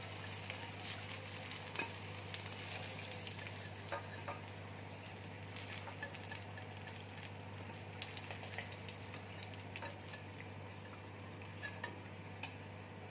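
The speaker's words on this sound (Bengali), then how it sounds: "এইভাবে আমি সব ঝিঙেগুলো ভেজে নেব" Ridge gourd slices fry in hot oil with a continuous close crackling sizzle, dotted with light stirring scrapes and clicks over a faint steady hum, no voices.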